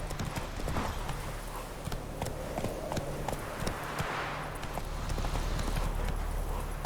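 Roach the horse gallops in The Witcher 3, a rapid, steady clip-clop of hooves close by over a constant game ambience, with a brief whinny.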